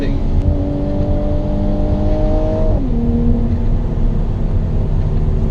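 A 2018 Mercedes-Benz C43 AMG engine drones loudly from inside the car as it drives, rising steadily in pitch and then dropping sharply as it shifts gear, continuous and close throughout.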